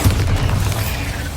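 A Bombarda spell explosion in the Hogwarts Legacy video game, a loud, deep boom with a rumbling low-end tail that stays heavy for over a second, with no voices.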